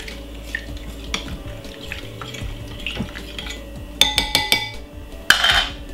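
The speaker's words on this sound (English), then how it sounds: "Give it a stir." A spoon stirs tea with lime, cucumber, honey and ginger in a cup. Soft swirling gives way to a quick run of bright clinks against the sides, then a final louder tap.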